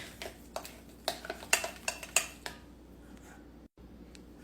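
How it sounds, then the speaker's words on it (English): Spelt flour and spring water batter stirred in a bowl, a run of faint clinking, scraping strokes in an irregular rhythm that fades out after a couple of seconds. "Stir this up until it's like pancake batter"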